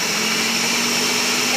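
A Ninja blender pureeing berries roars at full speed, a loud, steady whirring motor with a constant pitch and no pauses.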